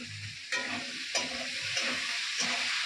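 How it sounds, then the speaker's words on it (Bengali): Green chillies dropped into hot oil in a home kitchen pan, a steady close sizzle broken by several sharp scraping stirs spaced about half a second apart. "এই যে কাঁচা লঙ্কাগুলো দিয়ে দিই।"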